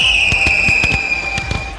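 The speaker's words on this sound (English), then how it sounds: "I love the fireworks." Fireworks explode at a marathon event, a rapid series of sharp, booming bursts over a steady high whine and constant crowd-like background.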